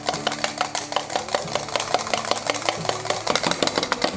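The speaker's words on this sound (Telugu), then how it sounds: "ఇప్పుడు విస్కర్తో ఇట్లా విస్కర్తో బాగా బీట్ చేస్తూనే ఉండాలి" A whisk beating dalgona coffee mixture with sugar in a bowl, a rapid, steady train of clicking and scraping strokes, close and continuous with no talking.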